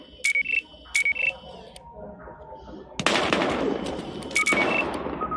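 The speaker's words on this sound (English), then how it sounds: "We've got gunshots. We're engaging. Gunshots reported at 3rd and 33rd." Gunfire in the PS3 video game Battlefield Hardline: two loud, dense bursts of shots break out midway through, mixed with repeated electronic beeping tones before and after.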